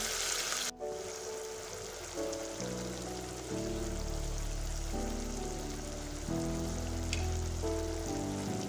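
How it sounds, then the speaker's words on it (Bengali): Tomato and spices with a little water fry in a pan for a sardine curry with capsicum and coriander leaves, giving a steady, close sizzle throughout with background music playing. "টমেটোটা দিয়ে একটু জল দিয়ে দিলাম, দিয়ে মশলাটার সাথে খুব ভালোভাবে কষিয়ে নেব প্রায় 2 মিনিট ধরে"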